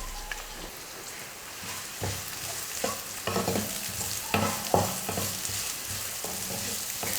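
Chopped shallots and green chili sauté in hot oil in a kadai, a steady close sizzle broken by scraping stirs of a spoon against the pan.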